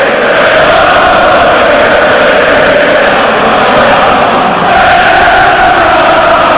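A huge stadium crowd of Newcastle United football fans roars and chants together in a loud, continuous wash of voices that barely changes level throughout.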